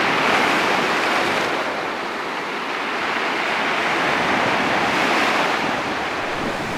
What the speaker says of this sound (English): the cliffs drop up to 80 meters to the sea, where they are met by a relentless barrage of waves